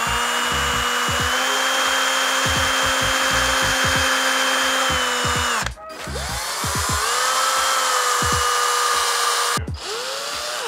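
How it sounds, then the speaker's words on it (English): A power drill whirs loudly in two long bursts, briefly stopping between them, with the pitch shifting as the bit bites into wood. "And then drill two holes."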